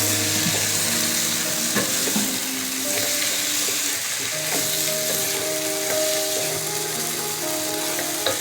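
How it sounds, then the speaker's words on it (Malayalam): Marinated chicken pieces frying in masala in a pan for chicken biryani, a steady loud sizzle with scraping stir strokes throughout, no voices. "ഇനി നമുക്ക് മാരിനേറ്റ് ചെയ്ത് വെച്ചിരിക്കുന്ന ചിക്കൻ അതിലേക്ക് ഇട്ട് കൊടുക്കാം മസാലകൾ നന്നായിട്ട് ചേർത്ത് ഇളക്കി കൊടുക്കാം"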